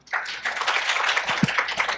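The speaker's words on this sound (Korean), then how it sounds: "네, 큰 박수로 모시겠습니다." An audience at an AI tech conference claps to welcome a speaker, a short burst of dense, close applause lasting a couple of seconds.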